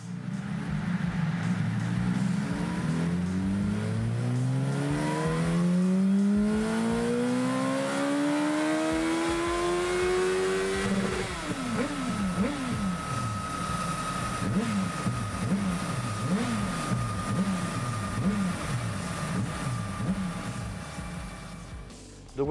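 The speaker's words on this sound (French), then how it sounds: "on y va pour le passage au banc" A motorcycle on a dynamometer roller test bench revs up loud and close, engine pitch climbing steadily through the gears, then wavering in repeated rising and falling revs before holding a high, steady drone.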